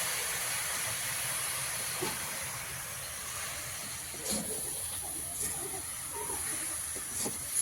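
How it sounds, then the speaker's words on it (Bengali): Coconut simmering in its own coconut water in a kitchen pot, giving a continuous faint steam hiss with a few soft bubbling pops and clicks over a low steady background. "নারকেলের জল দিয়ে নারকেল সেদ্ধ"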